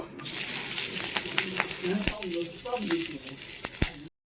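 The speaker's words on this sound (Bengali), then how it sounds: "কড়াইয়ে অল্প তেল দিয়ে গরম করে কালো জিরে আর কাঁচা লঙ্কা দিয়ে দেব।" Nigella seeds and green chilies sizzling in a little hot oil in a kadai, heard as a steady crackling fry dotted with sharp pops and a few scrapes, close by, before the sound cuts off.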